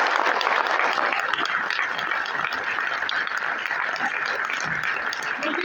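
Audience at a motivational seminar claps loudly and continuously, a dense roar of many hands filling the hall without letup for several seconds.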